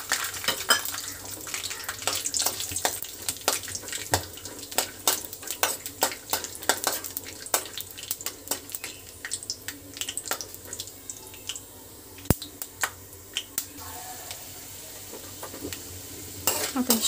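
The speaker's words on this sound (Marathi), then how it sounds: "आता तेल गरम झाल्यानंतर आता ह्याच्यामध्ये शेंगदाणे तळून घेऊया।" Peanuts frying in hot oil in a pan for a chapati chaat, with a steady close sizzle punctuated by frequent sharp clicks and scrapes of a spoon stirring against the metal, continuing throughout without speech.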